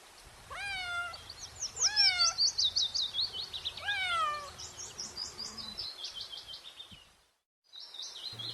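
A cat meows several times in drawn-out, falling cries, with bright bird chirps and twittering running high above throughout.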